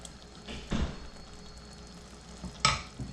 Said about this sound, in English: And now I'm going to add our fried shrimps to it. Give a quick mix